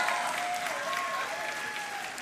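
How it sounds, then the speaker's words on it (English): Graduates at a university convocation ceremony break into sustained, moderately loud applause. The clapping is dense and even and holds for the whole stretch, with faint voices mixed underneath. "How about a round of applause from the graduates to the support network in the audience?"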